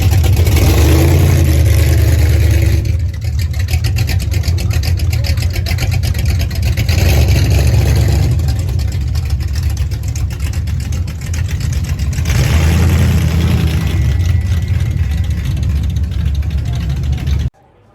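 Hot rod car engines racing at the Goodwood Revival circuit: loud, continuous roaring that swells and fades as cars pass, with the engine note rising and falling throughout.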